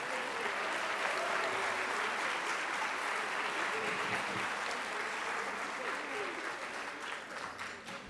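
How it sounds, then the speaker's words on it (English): An audience at a school band spring concert claps in a steady, sustained wash of applause from many hands, moderately distant and fading slightly toward the end. "Somebody was clapping."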